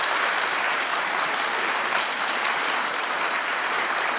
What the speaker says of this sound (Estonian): Teeme veel kord neile suure aplausi.